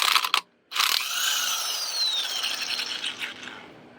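Porter Cable impact gun busting lug nuts off a front wheel of a 1997-2001 Toyota Camry, a short loud hammering burst, a pause, then a longer whirring rattle that winds down as the nut spins free.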